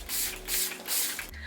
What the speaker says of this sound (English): if I just go crazy with the setting spray at the end of my makeup